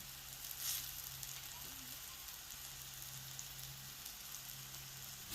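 Vegetables frying in a pan for curd palya give a faint, even, continuous sizzle heard from close by with no clear talking over it.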